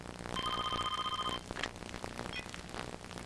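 A telephone rings once with a clear, electronic trilling tone for about a second. Soft background noise and faint clatter carry on afterward.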